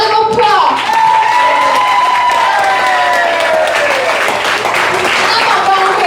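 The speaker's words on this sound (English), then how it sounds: "So y'all give the chef a round of applause." Loud, sustained applause from the audience at a kings and queens ball awards ceremony, with steady dense clapping and cheering voices rising over it throughout.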